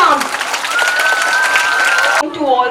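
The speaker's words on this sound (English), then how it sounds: "So please students, clap for our principal ma'am." Students clap for the principal at a school Independence Day celebration, a short burst of crowd applause mixed with a sustained tone and voices, ending abruptly.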